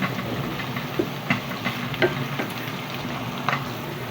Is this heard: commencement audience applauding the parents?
no